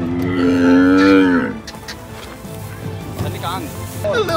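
A camel near the Giza pyramids lets out a loud, drawn-out groaning bellow up close, followed by lower grumbling sounds with people talking nearby.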